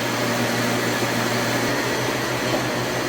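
Vacuum pump running at a large maple sap orchard, a loud, steady mechanical drone with constant hum and broadband rush, unchanging throughout and close by.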